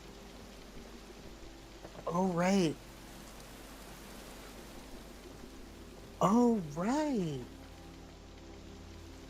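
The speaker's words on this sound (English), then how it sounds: "And like the muffled rain." Muffled rain falls in Minecraft as a soft, steady hiss in the background, continuous under two brief bursts of a voice speaking.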